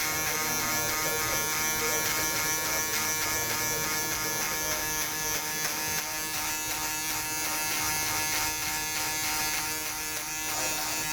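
Electric foil shaver buzzing continuously at close range in a barber shop, cleaning up a high and tight modified flat top haircut between the shaved and trimmed areas, a steady unbroken hum with no talk.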